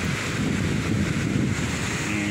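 Ocean waves wash steadily onto the beach at Teluk Penyu, Cilacap, on a Sunday morning, a continuous broadband surf roar mixed with wind buffeting the microphone.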